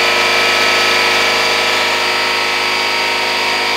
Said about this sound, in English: That's my compressor kicking in.